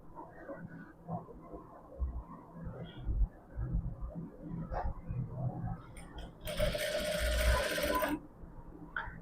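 A sewing machine stitches a pillowcase in a short, close burst of rapid whirring near the end, preceded by quiet handling and rustling of fabric.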